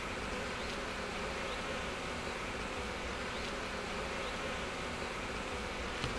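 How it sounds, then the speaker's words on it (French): A dense, steady swarm of honeybees buzzes around their hive, a continuous close hum that fills the whole stretch without pause or voices. "toutes les abeilles de la ruche en question vont revenir pour voir ce"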